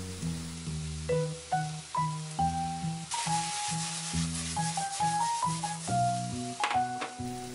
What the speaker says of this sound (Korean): 식용유를 두르고 마늘과 대파를 볶아줍니다